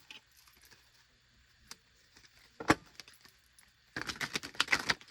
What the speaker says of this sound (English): I like how this deck shuffles too.